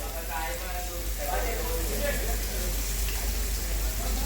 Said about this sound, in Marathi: ज्ञानेश्वर पाटील जेवण बनवत असताना बोंबील फ्राय.